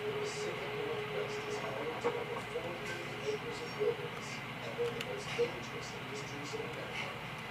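A locomotive from a BeamNG train mod gives off a steady mechanical rumble with light clanks and ticks over a continuous low hum. Its level stays fairly even throughout.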